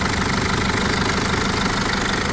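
A 2005 Mercedes 413 van with a 2.2-litre 95 kW diesel idles after being started at a used commercial vehicle market, a loud, even, knocking clatter that runs steady and close throughout, with no voices.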